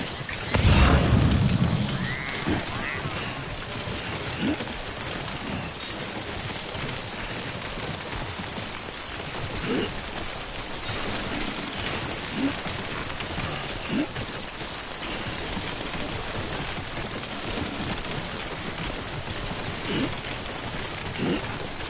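Steady rain falls as timefall in the video game Death Stranding, a continuous hiss of drops spattering on surfaces that carries on unbroken throughout, with a brief louder burst near the start.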